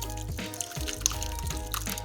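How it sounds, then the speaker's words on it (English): A cocktail mixture is poured through a muslin-lined strainer, giving a soft, continuous liquid trickle with faint drips under a steady background hum. "Line your strainer with that cloth and just pour it on over."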